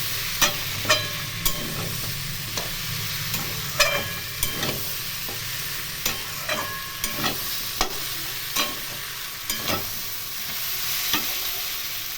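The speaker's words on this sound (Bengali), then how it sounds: "ঢাকনা খুলে নিলাম, দেখে নেব তরকারি এবং নেড়ে দেবো" Bengali mixed vegetable panchmishali sabji, cooked covered on a low flame, is stirred in a pan: a gentle sizzle underlies a dozen distinct spatula scrapes and taps at an irregular, unhurried pace.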